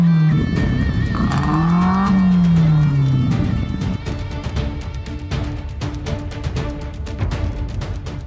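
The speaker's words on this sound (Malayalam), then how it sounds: "കാർ ഒന്ന് സ്റ്റാർട്ട് ചെയ്താൽ ഒരു ഭാഗത്ത് നിന്ന് തീയും മറുഭാഗത്ത് നിന്ന് ശബ്ദവും പോകുമ്പോൾ നാട്ടുകാർക്ക് വലിയ ശല്യമാണ്." A modified Maruti Zen revs hard through an altered silencer on a road in Nilambur, a loud, rising and falling engine roar with sharp pitch sweeps, then a rougher, choppy rumble that continues to the end.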